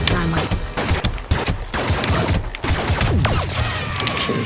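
Dynamite blasts in a Star Wars Ewok Hunt game: loud booming explosions mixed with rattling gunfire and debris, dense and chaotic, with a voice talking underneath.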